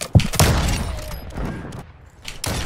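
Rapid bursts of gunfire in a Call of Duty Search & Destroy match, loud sharp shots clustered near the start and again at the end, with game ambience filling the gaps between.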